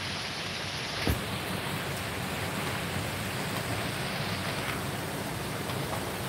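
Rain pours steadily during a typhoon as a dense, constant hiss, broken once by a brief knock early on.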